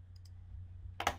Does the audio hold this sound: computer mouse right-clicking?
yes